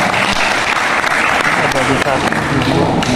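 Loud, dense audience applause at a cultural oration event in South Sumatra, sustained clapping filling the whole stretch without pause.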